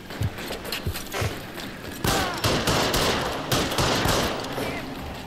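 Gunfire in L.A. Noire, a few separate thudding shots at first, then from about two seconds a louder, sustained exchange of rapid fire with ricochets and scattered bangs.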